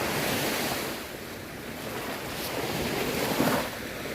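Sea waves washing onto the beach at Nam Rin in Ban Chang, Rayong, under an overcast sky, a steady broad surf roar with wind buffeting the microphone and a slightly louder wave breaking near the end, no voices.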